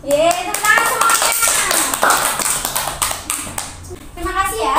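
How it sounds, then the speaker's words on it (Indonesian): Schoolchildren in an Indonesian classroom clap together in a busy, sustained burst of applause, with children's voices chattering throughout. "Tepuk tangan semuanya."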